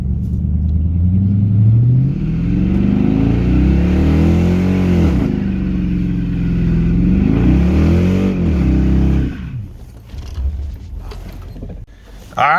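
Ram pickup with a V8 Hemi and automatic transmission doing a burnout, the engine revving loud and close in long rising and falling surges while the tires spin, then dropping off sharply near the end.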